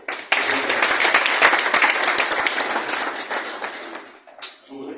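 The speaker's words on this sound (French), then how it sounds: "Et je voudrais qu'on acclame très fort." A crowd at a political gathering breaks into loud, dense applause that starts abruptly and carries on steadily before tapering off near the end, heard close with no talking.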